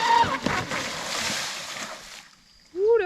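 Traxxas Spartan RC boat with extended trim tabs tearing across the water at high speed, a steady loud motor whine and hiss of spray that fades into the distance, then a voice speaks briefly at the end.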